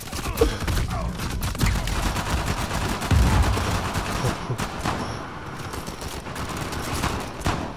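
Dense gunfire from a shotgun-wielding firefight in Uncharted 4, a steady barrage of overlapping shots and booms running the full length without a break, loud and close.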